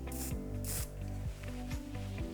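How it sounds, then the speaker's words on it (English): Wax spray hissing onto teased hair during an updo, a few short bursts in a row. "Then with the wax spray,"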